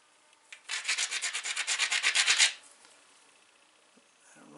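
The edge of a Kentucky hornstone flint knapping preform is ground with about fifteen quick, even rasping strokes, close and fairly loud, then it stops and a few faint taps follow.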